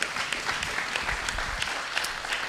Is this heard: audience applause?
yes